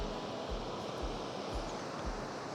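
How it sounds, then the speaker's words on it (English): A large Alpine waterfall near Flims in the Swiss Alps produces a steady rushing roar of falling water, broad and continuous, with faint periodic low thumps and no talking. "Just look at the size of this waterfall."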